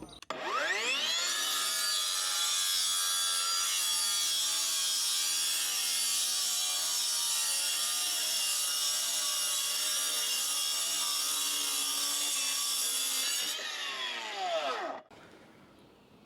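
A small mini disc cutter slices through patio paving slabs, spinning up and holding a loud, steady high-pitched grinding whine for about thirteen seconds before winding down and cutting out, with no talking.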